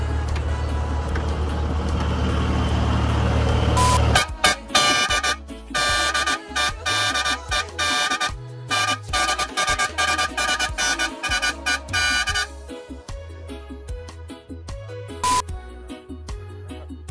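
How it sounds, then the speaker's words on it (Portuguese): A car horn blares loudly, then sounds in rapid repeated toots, followed by another brief honk after a pause. "Uma buzinadinha aí pro pessoal ver aqui."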